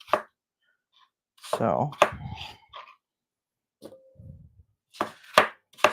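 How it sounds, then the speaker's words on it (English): A knife chops apple slices on a board in a few short bursts of quick cuts, close and clear, with brief quiet gaps and a person speaking a little between them. "we're just chopping these up"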